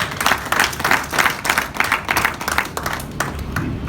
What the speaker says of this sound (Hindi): मैं चाहूंगा जोरदार तालियां